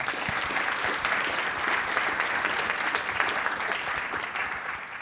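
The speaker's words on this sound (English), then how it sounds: "one more round of applause for Brendan, please." Audience applause at a tech conference live session, a dense, steady wash of many hands clapping that holds at an even, loud level for several seconds with no voices on top.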